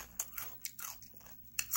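Close, quiet crunching as someone bites and chews crisp radish kimchi, a few sharp crunches over a couple of seconds.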